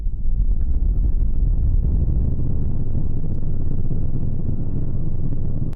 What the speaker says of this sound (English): Even if all you're doing is using a built-in EQ on a sound like this and making it a fairly severe cut